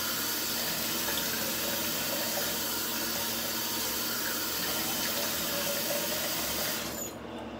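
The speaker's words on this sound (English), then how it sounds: "Rinse off the razor. Rinse off the face." Water running steadily from a tap while a razor and face are rinsed, a loud, continuous splashing rush that cuts off abruptly near the end, with no speech.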